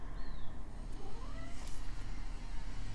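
A house cat meows to be let outside, a faint rising and falling cry close by, repeated a couple of times over a steady low background rumble.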